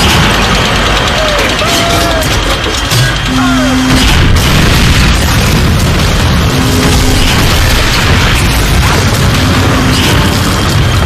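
Heavy artillery booms in the Call of Duty Finest Hour battle at Aachen, loud deep blasts repeating across the scene amid constant war noise and shouted dialogue.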